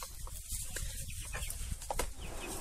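Three-month-old chickens hatched in a homemade incubator cluck and call near the microphone. Soft clucks overlap against a steady background murmur throughout.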